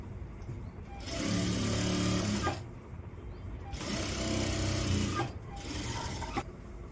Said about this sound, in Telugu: జాయిన్ చేసేసి పైన కూడా ఒక స్టిచ్ చేసుకోవాలి.